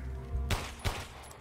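Two sharp gunshots from a weapon in Resident Evil Village, spaced a fraction of a second apart, fairly close against a quiet, low ambient background.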